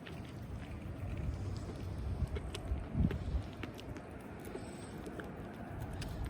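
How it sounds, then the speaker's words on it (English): Strong wind blows outdoors on a very windy evening, a steady low rumbling roar with gusty buffeting against the microphone throughout. "It's like crazy windy out today."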